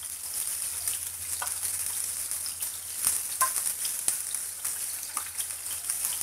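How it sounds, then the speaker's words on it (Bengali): Prawns frying in a pan for a prawn malai curry, giving a steady, fairly quiet sizzle with a few soft pops and crackles throughout, no voices. "আমি 1 মিনিট চিংড়ি মাছটা ভাজবো।"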